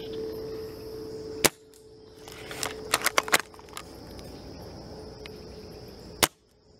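An airsoft gun fires several sharp snapping shots, one alone, then a quick cluster of four or five, then a final single shot, with small clicks of the bolt and mechanism between them in a quiet outdoor setting.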